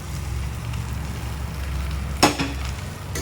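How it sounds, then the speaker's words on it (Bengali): A spoon stirs semai pilaf with mutton ghee and grated coconut in a pan, giving a soft, steady sizzle with one sharp scrape of utensil against metal near the end. "নাড়িয়ে নেব।"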